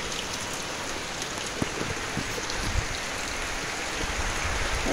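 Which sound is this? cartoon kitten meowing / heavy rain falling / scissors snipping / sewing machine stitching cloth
heavy rain falling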